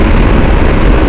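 Wind blasting against a motorcycle rider on a highway in Tamil Nadu: a loud, steady, low roaring rush that holds unbroken from start to finish.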